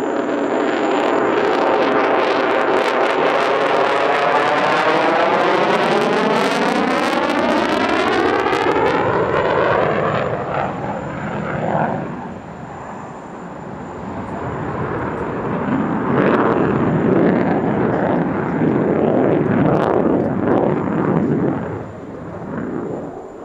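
Pratt & Whitney F-135 engine of an F-35 fighter jet at full thrust during a Dubai airshow, a loud roaring pass with a sweeping pitch shift, then a long rumbling, crackling roar that fades and swells again.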